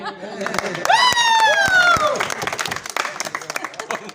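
Audience at a stage drama after party applauding two departed actresses: a burst of clapping and cheers rising sharply near the start, with a loud voice calling out over it before the clapping thins into scattered claps.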